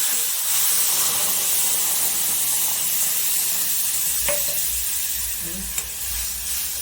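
Bottle gourd gravy hits hot oil tempered with curry leaves and asafoetida, giving a loud, dense sizzling hiss that holds steady throughout, with a couple of light utensil taps and a brief spoken word near the start.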